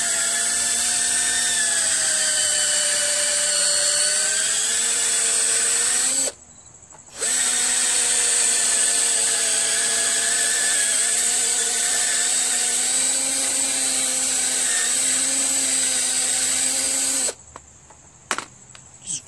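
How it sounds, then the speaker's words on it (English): A power drill bores out a plastic hole on a Craftsman push mower with a Briggs Quantum 4.75 engine, loud steady whine running about six seconds, briefly stopping, then running again for about ten seconds before short bursts. "Drill out the hole a little bit."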